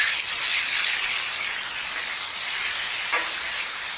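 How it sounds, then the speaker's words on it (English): Bacon sizzling in a pan for black-and-blue jalapeño sliders, a steady close hiss that fills the whole clip with no talk over it. "while we're beginning to cook the bacon"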